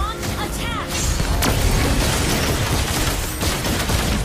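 Gunfire and blasts from a Mobile Legends: Bang Bang match with Yi Sun-shin, a dense, continuous barrage of booming impacts and rapid shots filling the whole stretch, loud and close.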